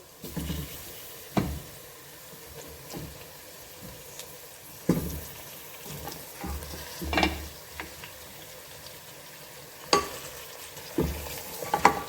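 Mutton trotters fry in hot oil with golden onions, a soft steady sizzle broken by repeated scraping stirs and clinks of a spoon against the pan.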